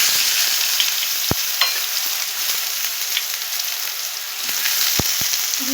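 Chopped, washed eggplant pieces frying in hot oil in a wok, a steady close sizzle throughout with a few sharp clicks of a utensil against the pan.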